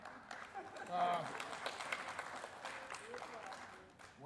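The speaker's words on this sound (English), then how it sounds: "That does deserve some applause." Scattered applause at a Buffalo school board meeting, light and thin with a few people clapping, voices and room murmur mixed in over four seconds.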